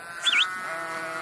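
A sheep on a New Zealand sheep farm gives a single short bleat, fairly near, over a steady background hum.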